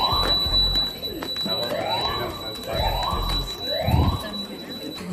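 An indoor fire alarm sounds a false alarm in repeated rising electronic whoops, about one per second, with a steady high tone underneath and muffled voices and movement nearby.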